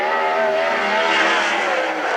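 A sprint car on a qualifying lap at the Central Washington State Fair speedway roars continuously at high revs, a loud, sustained engine whine holding steady close by.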